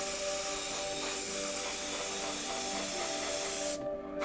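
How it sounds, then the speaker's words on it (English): Tamiya gloss coat being sprayed onto a plastic Airfix Hurricane model kit: a continuous close, fairly quiet aerosol hiss that stops abruptly near the end. "Doing a bit of Tamiya gloss. This is so I can put my decals on."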